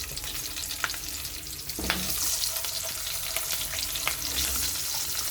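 Long-cut potatoes fry in hot oil with nigella seeds and green chili, giving a steady, loud crackling sizzle with a few sharper stirring scrapes and pops throughout.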